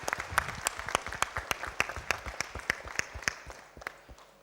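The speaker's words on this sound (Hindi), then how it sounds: "एक बार जोरदार तालियां हो जाए उनके लिए" Audience applause for a stage play's crew at a 2016 arts and culture event at Gyan Sarovar, Mount Abu: many hands clapping in a steady, crowded patter with sharp individual claps, sustained throughout.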